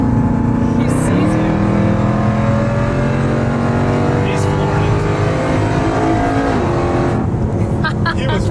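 A 1,000 hp supercharged Jeep Trackhawk accelerates at full throttle, its engine roaring loud with rising pitch through gear changes as people talk excitedly over it.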